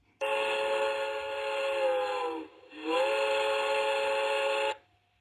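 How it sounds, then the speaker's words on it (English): A train whistle sample plays in an online survey: two long, loud steady blasts, the first about two seconds and the second about two seconds after a brief dip, clean with no talk. "I think I heard train whistle."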